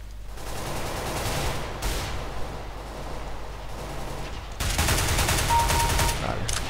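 Dense bursts of rapid gunfire in Counter-Strike: Global Offensive crackle nonstop, swelling louder near the end, with no voices over it.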